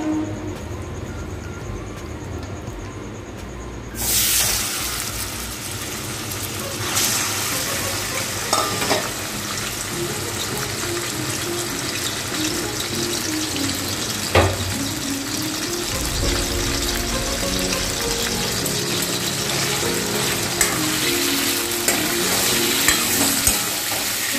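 Chicken marinated with salt and turmeric frying in hot oil, a steady close sizzle that rises abruptly partway through, with occasional stirring scrapes and clinks against the pan.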